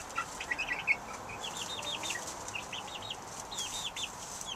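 Backyard chickens cluck and chatter around a coop fitted with nesting boxes, a few sharper calls up front, then steady mid-distance clucking over soft outdoor ambience.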